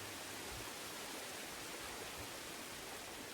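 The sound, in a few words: waterfall in Fallen Order video game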